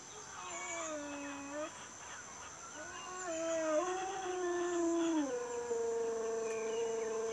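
A dog howls in long, wavering rising and falling tones, fairly close and sustained, with a second drawn-out howl building louder toward the middle and holding steady to the end; no one speaks.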